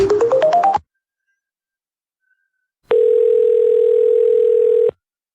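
A telephone line during dialing, a quick rising run of dial tones followed after a silent pause by a steady two-second tone, with no talk.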